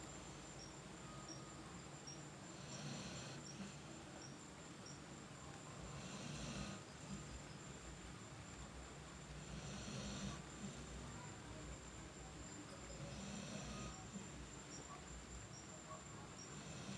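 A sleeping dog snores softly in slow, regular swells about every three and a half seconds, faint beneath a steady high hiss like insects.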